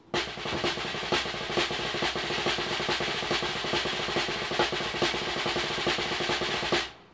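Dense, rapid drumstick five-stroke rolls, regular accented strokes cutting through ghosted double strokes, played continuously and loud without a pause.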